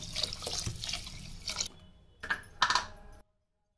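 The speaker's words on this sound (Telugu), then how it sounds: "ఇప్పుడు 4 గ్లాసుల వాటర్ వేసుకున్నామండి" Water splashes into washed rice for veg biryani, poured from a glass in a few short bursts with a pause between, then stops.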